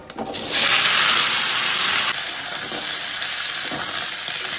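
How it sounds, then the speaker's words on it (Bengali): Five-spice seeds, dry chillies and bay leaf hit hot oil in a wok and burst into a loud, steady sizzle that hisses for a couple of seconds, then settles into a softer continuous frying. "কড়াই গরম হয়ে গেছে, 5 ফোড়ন, শুকনো লঙ্কা, তেজপাতা"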